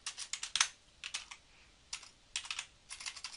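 Close, quiet keystrokes on a computer keyboard come in short bursts of rapid clicks separated by brief pauses, with no voices.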